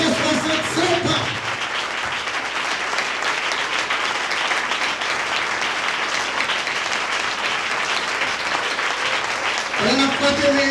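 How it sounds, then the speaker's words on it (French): A church congregation at a special Sunday service applauds heartily, a broad, steady wash of clapping lasting several seconds, with a voice speaking briefly just before it starts and again as it fades. "On nous applaudit, mon Dieu, grandement pour ces 67 ans."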